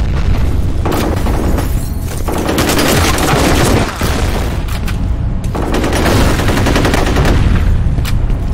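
Grenade blast and sustained gunfire in F.E.A.R. Combat, with dense rapid volleys of shots and booming explosions running continuously, loud and close, no talk.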